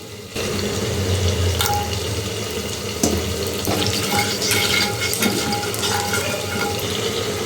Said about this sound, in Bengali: মাছ ভাজা তেলেতেই আমি দিয়ে দেব সামান্য পরিমাণ কালো জিরে আর দেব শুকনো লঙ্কা